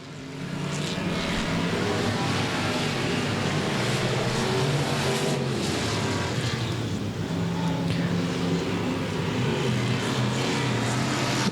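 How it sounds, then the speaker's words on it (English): Race cars roar past together on a raceway track in a close battle, one trailing smoke from underneath, a dense, loud, continuous engine drone with no gaps and no audible talk. "Second place battle right here, the 10 of Thomas West reeling in the 9 of Scott Barber"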